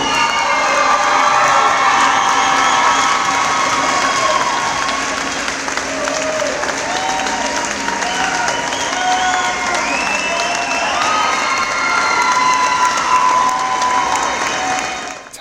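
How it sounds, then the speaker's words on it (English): A gym crowd at a high school volleyball event applauds and cheers for a retiring coach of 34 years, sustained loud clapping mixed with shouts, whoops and children yelling throughout. "Todd Holmberg was greeted with applause as he accepted the recognition"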